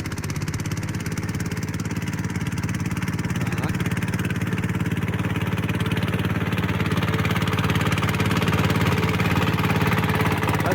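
A Shifeng tractor engine runs steadily in fourth gear, giving a loud, continuous low rumble with an even mechanical clatter that holds throughout, with no talking over it.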